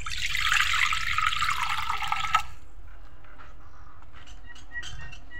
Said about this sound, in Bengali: প্রথমে কড়াইয়ের মধ্যে আম্মা পানি দিয়ে দিল।